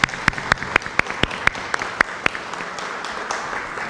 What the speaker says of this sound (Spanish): Para recibirlos les pido por favor un fuerte aplauso